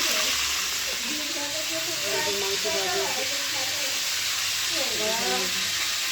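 Meat frying in a pan on a home stove gives a steady, loud sizzling hiss, with someone talking over it now and then.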